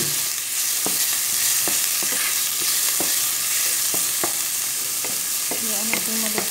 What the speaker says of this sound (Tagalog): Isa na natin ang ating white sibuyas. Sa ating mantika.